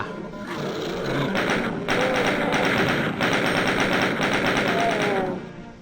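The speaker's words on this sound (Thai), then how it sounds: "โอ้โห ปืนกลจ้า" Machine gun fire in the shooter game DOOM II, a loud dense rattle of rapid shots running nearly the whole time with short breaks between bursts.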